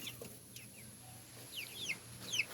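Rhode Island Red chickens of a vintage line cluck softly in a coop, a few short calls rising near the end over low steady background hum, with no talking.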